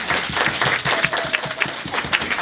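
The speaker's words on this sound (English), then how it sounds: "Let's all give ourselves a round of applause." Applause from a film festival audience in Brixton after a panel discussion: a dense, sustained wash of many hands clapping at an even, fairly loud level, with no speech.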